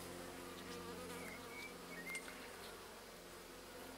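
Steady, dense buzzing of many honeybees on a hive frame of an artificial swarm close by, a continuous low drone with no voices.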